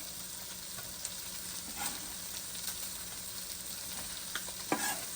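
Onion frying in a pan with steady soft sizzling and occasional scrapes of stirring, faint and continuous with no talk.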